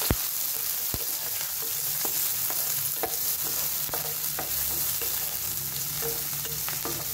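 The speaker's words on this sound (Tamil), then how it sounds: "பொரிஞ்சோடனே நம்ம கட் பண்ணி வச்சுருக்க பெரிய வெங்காயம் சேர்த்துக்கிடுவோம்." Chopped big onions frying in hot oil for a Tamil lentil-ball kuzhambu, with a steady close sizzle and several sharp ladle scrapes and taps against the pan, no talking.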